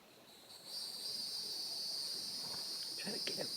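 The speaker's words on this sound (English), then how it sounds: "Cicada?" Cicadas in a backyard give a steady, high buzzing drone that swells in after a quiet start and holds on continuously, with a few faint rustles and small knocks near the end.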